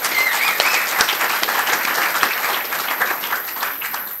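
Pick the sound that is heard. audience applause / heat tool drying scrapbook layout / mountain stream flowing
audience applause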